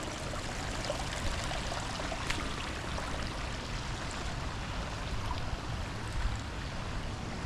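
Creek water flows in a steady, close trickling rush with small splashes scattered throughout, continuous and fairly quiet, with no voices.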